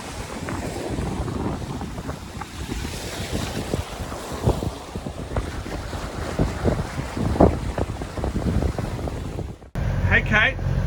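Sailboat cruising at almost 7 knots on the way to Great Keppel Island, steady rushing wind and splashing waves against the hull, loud and continuous with heavy wind buffeting on the microphone, with voices talking over it.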